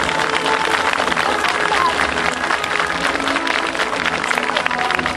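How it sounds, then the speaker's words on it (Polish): Audience applause at an outdoor historical pageant on Mill Island in Bydgoszcz, a dense, steady clapping from a large crowd filling the whole stretch without pause. "Wielkie brawa prosimy!"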